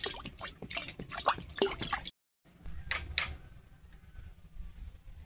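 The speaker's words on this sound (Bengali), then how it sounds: "কড়াতে জল দিয়ে দিচ্ছি, কচু সেদ্ধ করে নেব।" Water poured into a wok to boil taro, heard as a close run of splashy, dripping pours. A short silent gap follows, then softer trickles and drips. No one speaks.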